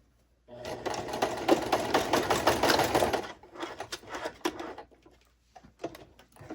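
A sewing machine runs in a steady fast burst for about three seconds while stitching fabric for a wrap dress, then stops, leaving quieter scattered clicks and handling noise close by.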